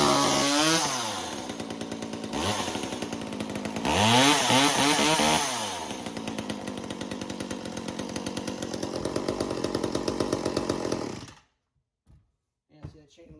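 A 1985 Eager Beaver 2.0 chainsaw engine runs loud and close with a freshly fitted chain, revving up and down several times before cutting off abruptly near the end, followed by a few faint knocks.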